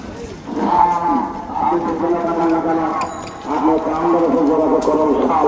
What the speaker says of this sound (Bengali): বিশাল গরু বাজার